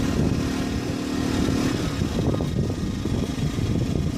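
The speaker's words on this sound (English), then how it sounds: "when I turned on the electric water heater, then I had to come out here and rev this up a bit" Small engine or generator revved up to carry the load of an electric water heater, running steadily close by with a rough, uneven rumble and no speech.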